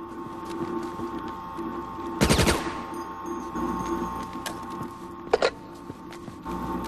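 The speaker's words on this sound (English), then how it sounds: "Concentrate weapons fire on those servers." Weapons gunfire in the video game Resident Evil Operation Raccoon City, a short rapid burst around the middle and a brief second burst later, over a steady electrical hum with no talk.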